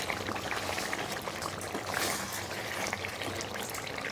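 Beaten sour yogurt poured into a dhaba-style chicken masala, a thick wet gurgling trickle over a steady bubbling simmer, close and moderately loud, no voices.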